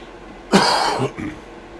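A single harsh cough or throat clear, close and fairly loud, followed by a shorter second rasp, with quiet around it.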